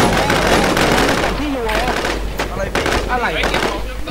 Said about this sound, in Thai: มันยิงจากไหนวะเนี่ย